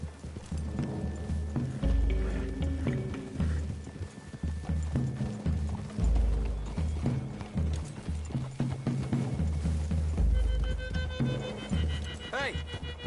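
Horses' hooves in Red Dead Redemption 2, a steady clip-clop of several horses walking through trees toward a clearing, close and continuous for thirteen seconds, with a whinny near the end and game music underneath.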